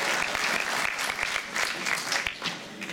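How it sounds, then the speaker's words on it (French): A festival audience claps steadily and densely for a music performance, sustained applause with no talk over it. "Continuez à applaudir pendant qu'ils font le ménage."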